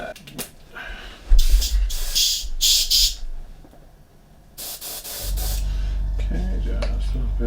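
An airbrush sprays cleaner into the dark interior of a Millennium Falcon scale model, with several short sharp hissing bursts followed by a longer steady spray, close up.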